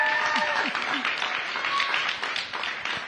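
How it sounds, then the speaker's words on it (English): Audience applause at a COP 28 climate panel with U.S. senators, a dense, sustained clapping from a large crowd heard close throughout, gradually tapering near the end. "Let's give her a round of applause."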